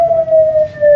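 A loud, steady ambulance siren wails close by at a crowded political rally at Liaquat Bagh in Rawalpindi, holding one sustained tone without a break.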